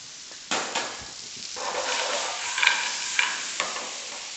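Fresh clams, about a dozen per person, dropped into a hot pan of tomato sauce, sizzling and bubbling steadily with a few sharp clicks of shells knocking against the metal.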